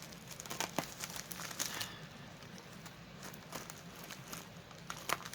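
Plastic wrapping on a package being crinkled and cut open with scissors, a steady close rustling with scattered crackles and brief tearing bursts, no voices.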